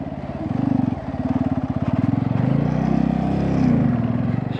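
A motorcycle engine labours loudly and close on a rough, broken mountain road, revving in a steady pulsing drone as it climbs and the front wheel lifts.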